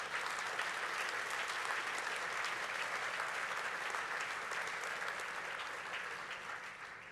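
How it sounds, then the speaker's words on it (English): Steady audience applause at the groundbreaking ceremony for the Dwight D. Eisenhower Memorial, an even, continuous patter of many hands heard from a distance at low volume, easing off slightly at the end. "I think you're supposed to clap here, folks."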